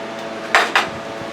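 Two quick metallic clatters, close up, as chicken drops into a frying pan, with a brief pause between them.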